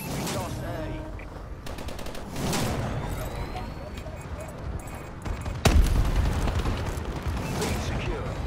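Explosions and bursts of automatic gunfire from a bombing run in the game Call of Duty: Advanced Warfare, with rattling fire, mechanical clatter and a sharp boom partway through, under some game voice chatter.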